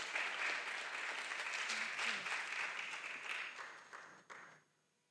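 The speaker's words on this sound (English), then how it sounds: "A round of applause." An audience at a workshop on gender-based violence claps to welcome a university counseling center head to the stage, steady dense applause that gradually thins and fades out near the end.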